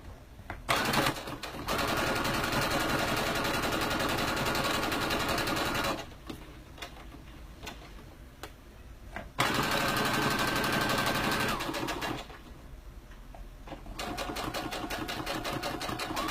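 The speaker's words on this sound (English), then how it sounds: "And then just top stitch this seam toward the bottom." A sewing machine top stitches a seam toward the bottom of a garment in several long, loud, rapid buzzing runs, separated by short pauses of quieter handling noise.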